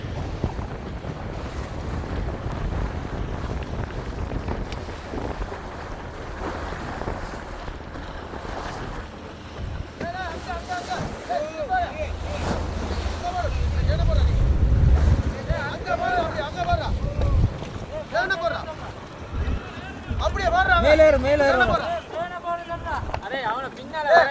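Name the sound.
sea waves and a boat at sea at night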